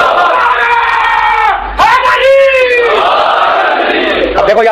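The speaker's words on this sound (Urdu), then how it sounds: "دیکھو یہاں سے مرداباد کے نعرے آ رہے ہیں" A large crowd chants "murdabad" slogans in loud, massed shouting voices that swell and surge together, sustained throughout.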